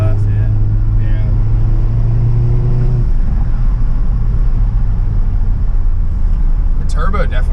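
A Volkswagen Golf R fitted with a Milltek exhaust drones with a steady, loud low engine rumble that eases slightly midway, with voices present.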